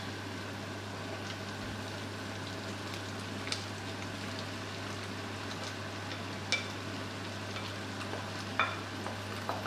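Onions and mushrooms frying in a pan, a steady close sizzle with faint crackles and occasional small clicks, no talking.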